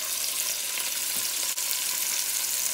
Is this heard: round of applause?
no